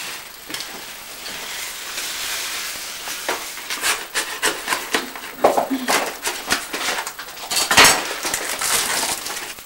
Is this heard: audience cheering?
no